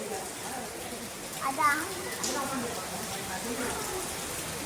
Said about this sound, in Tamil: பாருங்க கைஸ் எப்படிலாம் மழை